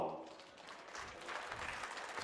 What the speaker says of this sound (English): rightfully garners the applause of the crowd here today